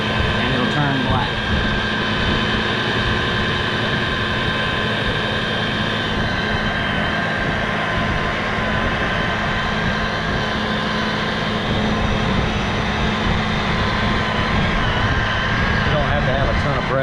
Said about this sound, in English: Got 600 RPM according to the grinder. So you just rub it, and it'll turn black.